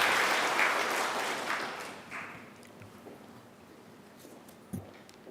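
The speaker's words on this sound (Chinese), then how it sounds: "咱个鼓掌来鼓励因好" A church congregation at a Taiwanese-language worship service breaks into loud applause that swells briefly and then gradually tapers off, leaving a few faint claps and quiet room noise.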